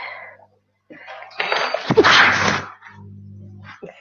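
A single sharp sneeze bursts out mid-clip, loud and close, with quieter voices and background noise before and after.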